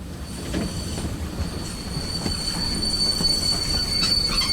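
A train in the video game The Technomancer rolls along with loud, sustained metallic wheel squeal and a steady rumbling clatter that swells slightly over several seconds, with no voices.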